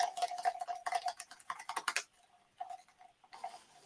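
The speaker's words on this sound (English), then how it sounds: "And I'm going to whisk it." Popsicle sticks whisk a mixture in a bowl with quick, light clicking and tapping for about two seconds, then slow to a few sparse soft taps. It is quiet and close, with no speech.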